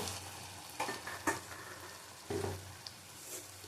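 Chicken and pointed gourd curry being sautéed in a pan, with a quiet sizzle and a few louder bursts of stirring and scraping, no talking.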